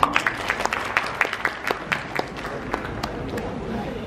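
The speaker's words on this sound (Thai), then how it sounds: "ขอเสียงปรบมือให้อาจารย์ด้วยนะครับ" A seated audience at a Thai history lecture claps for the lecturer. A few sharp, scattered claps at first thicken into steady indoor applause.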